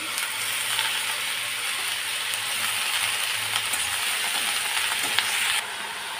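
Greens tipped into a pan of frying onions give a steady, close sizzle and hiss that holds evenly for several seconds, then drops slightly near the end.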